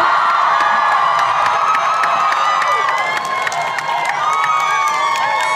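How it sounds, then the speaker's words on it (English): A large audience at a Los Angeles Comic Con panel cheers, whoops and applauds loudly and continuously, a dense roar of voices filling a big hall. "huge round of applause for Vivienne Medrano!"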